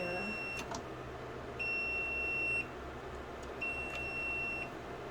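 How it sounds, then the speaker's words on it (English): A humidifier sounds three short, high electronic beeps in a steady, evenly spaced pattern over a quiet background hum, signalling that humidity is dropping. "It's beeping at me because the humidity is going down."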